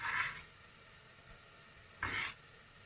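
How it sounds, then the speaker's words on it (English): Onions drop into hot oil in the middle of a pasta pan on an electric stove, giving two short bursts of sizzling stir a couple of seconds apart over quiet background. "Put some oil in. Put our onions in the middle."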